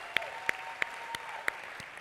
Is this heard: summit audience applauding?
yes